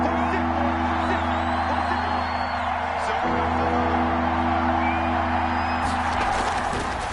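Stadium crowd in a PS4 football video game roars and cheers steadily throughout, a dense broad wash of voices with whoops, rising at the end with clapping bursts.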